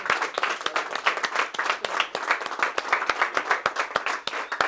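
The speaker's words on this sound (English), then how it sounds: "I think all of you should stand up and give yourself an applause" Audience applause at a fellowship final pitch event, a dense steady patter of many hands clapping close by for almost five seconds with no talk over it.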